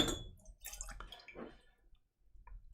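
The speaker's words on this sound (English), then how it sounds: "Okay, let me pour." Whisky pours and splashes into a glass in short, close trickling bursts, then trails off into near silence.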